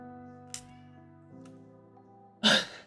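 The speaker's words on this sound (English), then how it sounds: "oh my god, my cat is screaming" A house cat meows with a couple of short calls, the last one loud and close, over a quiet background with a steady electronic hum.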